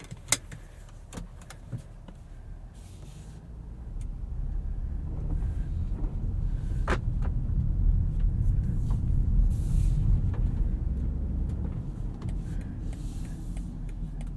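Cabin hum of a 2020 BMW X5 xDrive40i with a turbo inline-six driving on the road, a steady low rumble that swells midway and then eases, with occasional small clicks and no talking.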